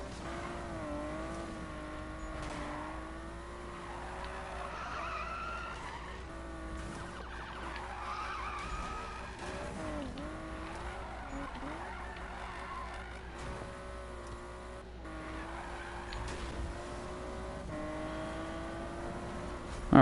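A car drifts in a racing video game, with long squealing tire skids that rise and fall in pitch over a steady engine whine, continuous and fairly quiet, with no talk.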